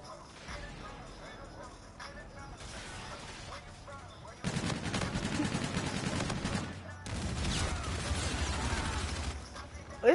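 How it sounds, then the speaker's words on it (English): Rapid gunfire bursts from a first-person shooter match on a small map, loud bursts from about four seconds on, with quieter shots and mechanical clatter before, under faint voice chatter. "What kind of gun was that?"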